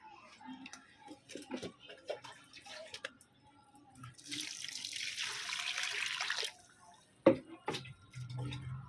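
Water poured onto potted garden plants makes a steady rushing splash for about two seconds in the middle, surrounded by quiet clicks and drips, with faint talk at times.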